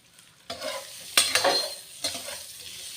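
Food frying in a pan on a low flame with turmeric and chili powder gives a soft sizzle, broken by three distinct stirring scrapes close by.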